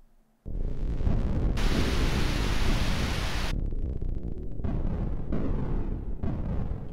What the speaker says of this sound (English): there's a thunderstorm going outside